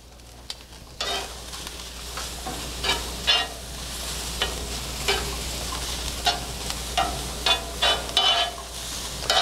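Onions sizzling in an oiled skillet on high heat, a steady hiss under a low hum, punctuated by repeated spatula scrapes and taps at an irregular pace.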